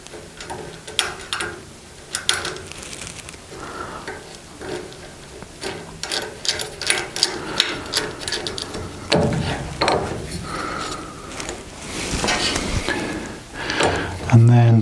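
Screw being tightened while installing an Axminster AT254BS/AT315BS table saw, giving repeated ratcheting clicks and small mechanical rattles near the microphone, with some talking mixed in.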